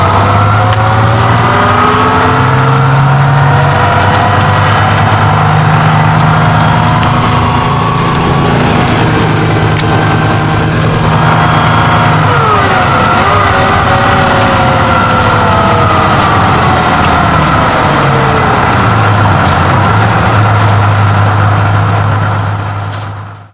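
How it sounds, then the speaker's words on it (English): Detroit Diesel 6V92 engine driving a 1981 GMC RTS transit bus, a loud, steady diesel drone with whining gear tones rising and falling through changes in speed for over twenty seconds. "6V92 engine, which sounds like this."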